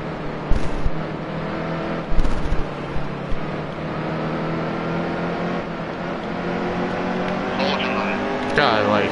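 A stock car engine in Nascar Heat 2 at New Hampshire drones at a steady high pitch as another car passes on the outside, with brief impact thumps and a rising whine near the end while someone talks over it.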